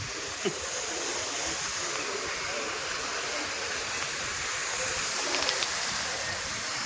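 Sea waves wash steadily onto the shore at Dwarka, a continuous broadband roar of surf with wind, moderately loud and unbroken throughout, with no clear voices.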